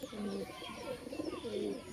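Pigeons coo in overlapping low, throaty phrases nearby, a steady murmur with faint background noise.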